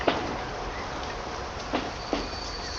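A train running in the video game Transport Fever, a steady rolling rumble with a few sharp clacks of wheels over rail joints.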